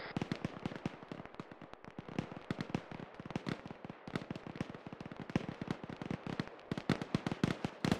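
Heavy multi-shot gunfire in a military video game, a long run of dense, rapid cracking reports from a distance, steady and relentless without pause.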